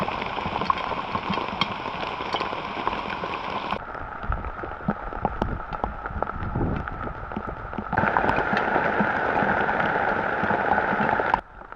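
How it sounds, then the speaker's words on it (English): Rain falls steadily on a campsite in the Hawaiian jungle, a continuous hiss with scattered close drips and patters. The hiss is nearby, thins briefly in the middle, then grows heavier again. "it's been raining non-stop for the last couple of hours"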